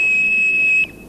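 Aggrey Memorial school's quiz contestant buzzer sounds one loud, shrill electronic tone. It holds steady for under a second and then stops sharply, leaving a faint lingering hum.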